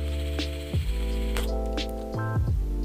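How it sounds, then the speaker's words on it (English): A Laan Lite MTL pod vape, a PWM device, gives off a loud, close electronic buzz while a hit is taken, a droning hum whose pitch steps up and down several times over a few seconds. "the annoyance factor on the noise that it makes. It does that every time you take a hit because it's a PWM device, pulse width modulation"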